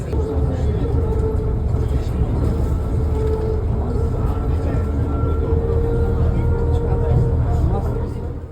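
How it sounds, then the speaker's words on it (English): Vinbus ride to Vinpearl Safari on Phu Quoc island, a steady loud low engine and road rumble from inside the moving bus, continuous throughout, with some talking mixed in. "We took a 30-minute ride on the Vinbus through the beautiful neighborhood to reach the"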